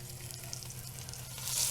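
Meat shanks sear in a hot pan during a full-meal cooking session, giving a steady, close sizzle and fry hiss that rises slightly toward the end, with no talking.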